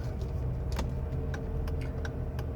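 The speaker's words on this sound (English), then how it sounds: "Signals work right and left." Turn signal relay of a 1993 Mercedes 190e Sportline LE 2.6 ticking in a steady, evenly spaced series of soft clicks over a low idling hum.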